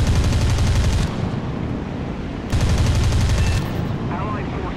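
A La-5F fighter in War Thunder simulator battles fires its cannons in two loud sustained bursts of rapid gunfire, separated by a quieter stretch of engine drone.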